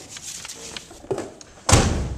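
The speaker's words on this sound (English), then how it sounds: "So we come in through the front door" The front door of a house opens with faint handling noises, then closes with a single solid thud, close by and fairly loud.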